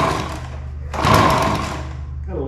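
An Echo PB-265LN leaf blower with its choke on and primer pumped, and with a carburetor part missing, gives a loud buzzing sputter with a sharp burst partway through, close up during a start attempt.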